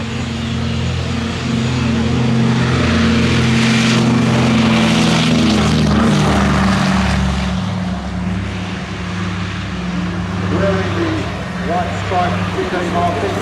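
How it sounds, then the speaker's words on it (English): A C-47 Dakota propeller aircraft takes off at an air show, its deep droning piston engines rumbling loudly and steadily with a low growl that shifts as it climbs away. "as we watch the C-47 Dakota get airborne"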